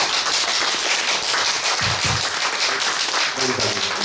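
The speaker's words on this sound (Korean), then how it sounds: "빨리 건강 회복하시는 큰 박수" Applause for a teacher just back from hospital, at the close of a Buddhist lecture on the Lotus Sutra, a dense burst of clapping throughout, with a few low thumps and faint voices toward the end.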